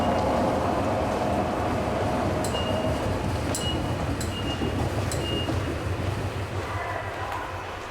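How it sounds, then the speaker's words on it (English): A Tokyo Metro Ginza Line subway train rumbles steadily through a tunnel overhead, heard from the Yurakucho Line at Ginza-itchome Station, muffled and continuous, with a few faint metallic clicks and squeaks, fading slightly toward the end. "I can hear the sound of the Ginza Line running in the tunnel directly above"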